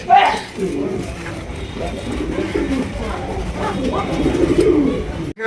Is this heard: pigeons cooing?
yes